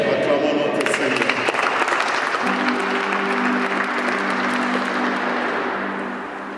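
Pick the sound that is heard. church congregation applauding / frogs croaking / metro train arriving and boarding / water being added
church congregation applauding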